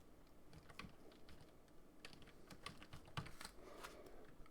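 Quiet, rapid tapping of fingers on a computer keyboard while typing a formula into an Excel spreadsheet, an irregular stream of small clicks with a few sharper keystrokes, close and faint, with no talk.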